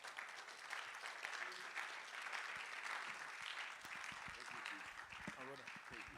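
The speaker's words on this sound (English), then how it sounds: "Oh, please, another round of applause." Steady audience applause fills a summit hall on a digital assets day event, continuous and moderately loud throughout, with a voice speaking faintly beneath it toward the end.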